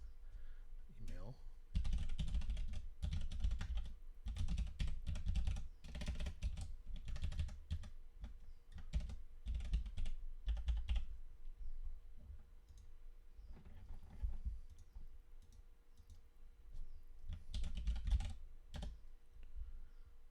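Close, clattering keystrokes on a computer keyboard while a username and password are entered, coming in quick runs of taps separated by short pauses.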